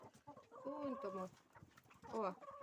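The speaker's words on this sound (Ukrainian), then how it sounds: "Ходить, кохкає, не співає" A black rooster clucks in a farmyard during a morning feeding, several short clucking calls close by, with a person talking over and between them.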